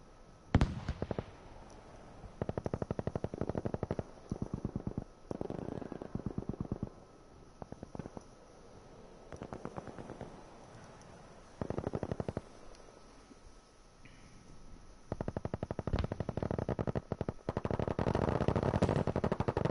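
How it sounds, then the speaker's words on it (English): Tommy guns and Lewis guns firing in a multiplayer video game battle, rapid automatic bursts in repeated clusters of varying length, some near and sharp, others more distant, with brief lulls between volleys. "Lots of Tommy guns and Lewis guns going off."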